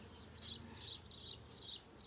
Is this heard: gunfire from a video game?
no